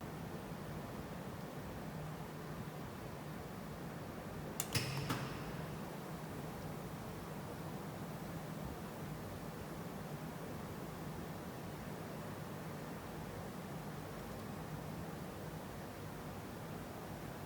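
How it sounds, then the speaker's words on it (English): Steady hiss of corona discharge on a high-voltage conductor wire in a lab test, a constant broadband rush throughout with one brief crackling burst near the start. "notice the disruptive voltage where you can hear the hissing noise"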